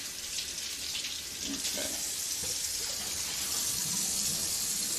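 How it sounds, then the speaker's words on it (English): Tap water runs steadily onto a pan in a home kitchen sink, a continuous hiss and splash lasting throughout, with one brief spoken word near the start. "Let's throw some water on here for a second."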